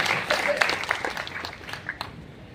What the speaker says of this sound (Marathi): असे मंत्री महोदय शिरसाट साहेब त्यांचं आपण जोरदार टाळ्या वाजवूया।